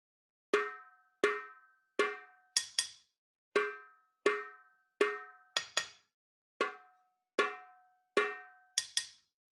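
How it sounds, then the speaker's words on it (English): Rhythmic call-and-response pattern struck on a frying pan: clear metallic clangs with ringing decay, grouped single hits followed by quick double strikes, repeating several times close and alone. "So again, the call and the response is what you'll play on the frying pan."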